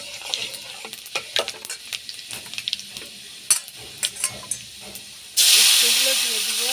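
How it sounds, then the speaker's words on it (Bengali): Panch phoron spices go into hot oil: a series of light taps and clicks, then a sudden loud, steady, close sizzling hiss that carries on to the end. "একটু পাঁচফোড়ন তেলে দেব।"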